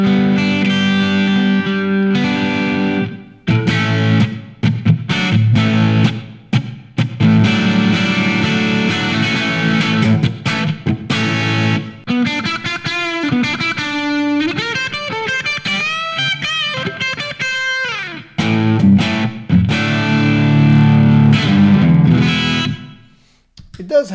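A loud electric guitar played through a NUX MG-101 multi-effects unit at high gain, giving a snarling, Marshall-style distortion. Strummed chords and bending lead notes run continuously, then cut off abruptly at the end.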